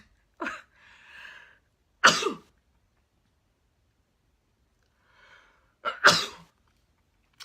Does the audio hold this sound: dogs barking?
no